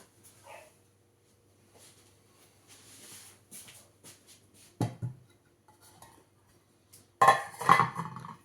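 Sharp metallic clanks of a pot being handled, a few scattered knocks followed by a louder clattering burst near the end, in an otherwise quiet room.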